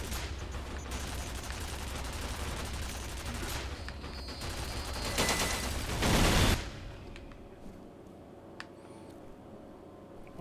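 Sustained turret gunfire in the shooter game FEAR Perseus Mandate, a dense continuous fusillade that swells louder near the end of the burst, then cuts off abruptly, leaving sparse quieter clicks and distant shots.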